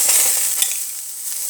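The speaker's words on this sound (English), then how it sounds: "I've already preheated my pan. I put a little bit of oil in there. I'm going to add the shrimp" Shrimp hitting hot oil in a preheated pan, giving a bright close sizzle that starts loud and settles to a steady hiss, with a faint scrape of stirring.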